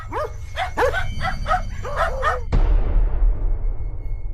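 A dog gives a quick series of yelping barks, about six in a row, followed by a sudden loud thud that rings out and decays.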